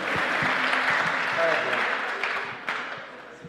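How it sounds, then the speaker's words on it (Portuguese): Audience applause during a talk: a sustained crowd clapping that gradually fades, with voices murmuring underneath. "Uma salva de palmas aqui"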